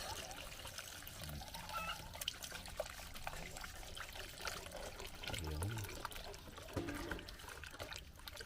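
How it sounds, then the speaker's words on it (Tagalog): Pig blood is poured into a pork-rib sinugaok stew with papaya during farm cooking outdoors, a soft continuous liquid trickle and splash lasting several seconds, with faint talking in the background. "Lalagyan natin ng dugo."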